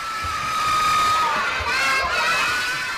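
Kindergarten children in Iida, Nagano, cheering together, a high-pitched chorus of excited shouts and squeals, steady and close throughout.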